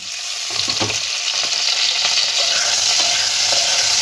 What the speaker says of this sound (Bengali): দেখুন আলু আর ওলকপি ভাজতে ভাজতে দেখুন গায়ে লাল লাল দাগ হয়েছে